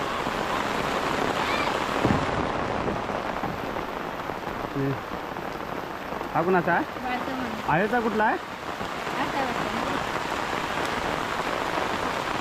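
Heavy monsoon rain pours onto a flooded paddy field during traditional rice planting in a Konkan village, a constant loud hiss of drops, while nearby voices talk briefly over it midway.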